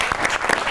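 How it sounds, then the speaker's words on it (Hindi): A studio audience at a comedy talk show interview claps in a dense, even burst, loud and close, with individual hand claps standing out from the crowd. "तो इसके लिए इनके लिए बहुत सी तालियां होनी चाहिए।"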